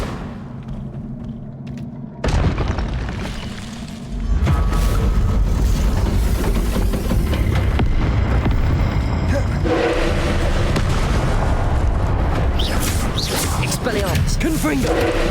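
Fiery blasts from the Confringo spell in Hogwarts Legacy on Nintendo Switch, heavy booming bursts over a rumbling game soundscape, with spell shouts among the noise.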